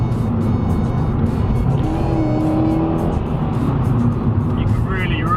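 A Ford Fiesta ST engine drones loudly at high revs from inside the moving car, a sustained strained hum with road noise, and a person talks over it throughout.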